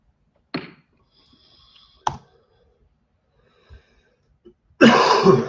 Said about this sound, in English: now I have a cough, or like an itch